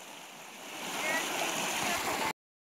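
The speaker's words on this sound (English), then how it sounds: "So my cousin found this waterfall slash dam that leads down the stream." Water pouring steadily over a small waterfall and dam into a creek, a close, continuous rushing and gurgling wash that stops abruptly near the end.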